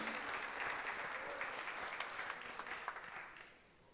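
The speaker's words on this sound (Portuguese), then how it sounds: "Quem recebe o poder dessa palavra, aplauda ele em nome de Jesus." A church congregation applauding during a Portuguese-language sermon, a broad steady wash of clapping that stays dense before thinning and fading toward the end.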